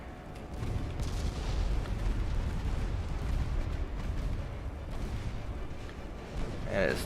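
Naval ship gunfire in the battleship game Ultimate Admiral Dreadnoughts, heard as a continuous deep, distant rumble of booming guns at moderate loudness that swells and fades across the stretch.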